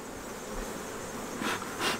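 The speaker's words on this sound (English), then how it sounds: "Bees are running around a pretty good bit." Honey bees buzzing close around an open hive frame, a steady insect drone with a couple of louder passes near the end and no talk.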